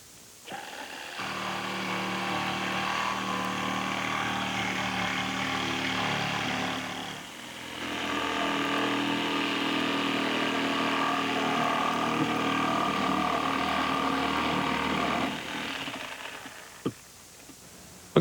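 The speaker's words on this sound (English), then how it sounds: "you can use a reciprocating saw or a jigsaw" Reciprocating saw or jigsaw cutting vent holes for vent moulding installation, a steady loud buzzing run lasting most of the clip with a short dip midway, close by and without talk.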